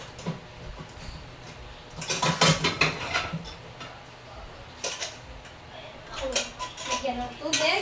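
Metal clanks and scrapes as a cooking pot is handled, in several separated bursts amid quiet background.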